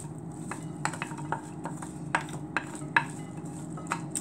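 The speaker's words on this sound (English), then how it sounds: "Now we will do the mixing." Fattoush salad ingredients tossed in a bowl, with soft irregular clinks and scrapes of utensils against the dish and a low steady background hum throughout.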